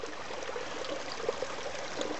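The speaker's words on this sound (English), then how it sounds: "Natural spring there. Drink that water coming through" A natural spring trickles steadily through a winter campsite, a faint, even babble of running water with small splashes, heard alone and close by.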